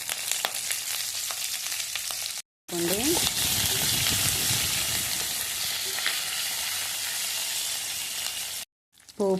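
Curry leaves drop into hot tempering oil already reddened with spices, setting off a loud, close, crackling sizzle that continues steadily for several seconds, with brief silent gaps near the start and end.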